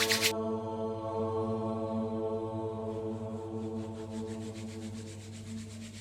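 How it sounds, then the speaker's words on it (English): Palms rub briskly together during a guided meditation session, a soft, rhythmic swishing that starts partway through over a steady low droning tone. "rub your hands"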